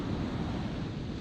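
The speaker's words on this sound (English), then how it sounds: "the way that the water was coming in, the sound of the ocean" Ocean waves at sunrise, a steady, broad wash of surf and wind noise, brief and moderately faint, with no voices.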